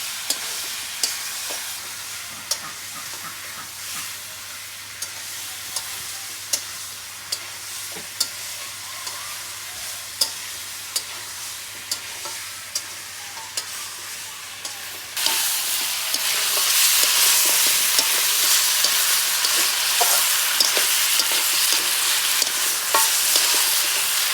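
Country chicken curry sizzles in a pan as the meat is fried and stirred, a steady crackling hiss with regular scraping strokes that grows louder and brighter halfway through, with no talking.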